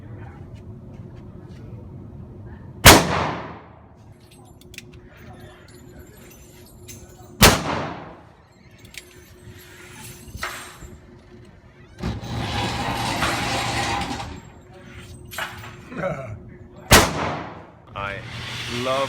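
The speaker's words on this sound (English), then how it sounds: "I shot the ultimate handgun of all time, the .357 Magnum, which cannot be beaten" Handguns fired at a gun range, including a .357 Magnum: three sharp, loud shots spaced several seconds apart, with rumbling bursts and indistinct talking between them.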